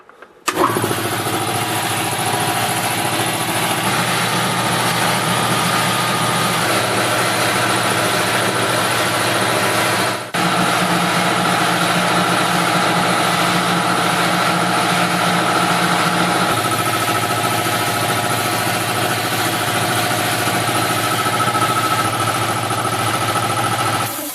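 A 60-gallon Omega PP 6060V shop air compressor starts up and runs loud and steady, with a continuous motor drone and a brief dip partway through, with no voices.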